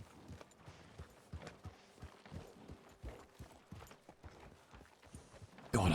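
Horse hooves clip-clop in Red Dead Redemption 2, a steady walking rhythm of hoof falls at moderate loudness that ends in a sudden loud burst of noise.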